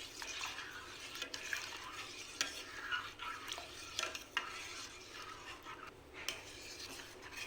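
A spoon scrapes and swirls through warm milk mixed with milk powder in a pot for homemade mango ice cream, making irregular close scraping strokes and soft clinks against the metal, with no talk.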